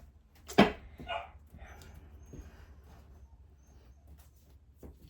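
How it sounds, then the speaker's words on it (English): A puppy barks sharply twice in quick succession, fairly close, then gives one fainter bark a few seconds later over a low background hum, indoors. "And now we're going to hear Luna barking in the background."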